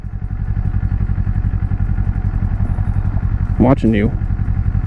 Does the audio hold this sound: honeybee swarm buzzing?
no